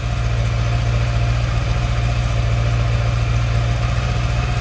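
A Honda Goldwing GL1100 Interstate motorcycle engine idles close by, a steady low throbbing hum with an even rhythm and a faint whirring layer above, running alone without talk.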